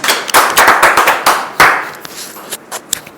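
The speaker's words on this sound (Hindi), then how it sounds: "ताली बजा के प्रभु।" A church congregation at a Sunday meeting claps hands in a quick, uneven burst of sharp claps that trails off into a few scattered ones near the end.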